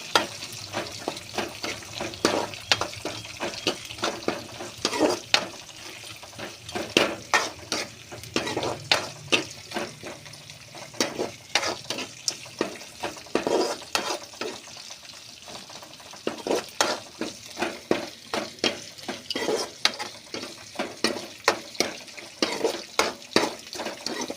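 Dried red chillies fry in hot oil while a utensil stirs them in the pan, giving a steady sizzle broken by frequent sharp scraping and clinking strokes at close range, with no voices.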